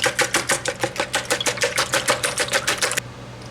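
Eggs beaten in a dish for a zucchini quiche, a fast, even run of sharp whisk or fork clicks against the bowl, loud and close, stopping abruptly near the end.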